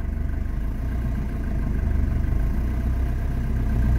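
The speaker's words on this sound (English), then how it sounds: "It's idling super smooth." A 1982 Mercedes 240D diesel with a 4-speed idles steadily and smoothly close by, a continuous low rumble with a faint rhythmic pulse and no talking.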